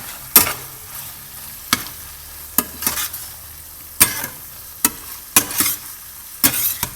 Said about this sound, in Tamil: போட்டுட்டு கொஞ்சம் கிளறி கொடுங்க.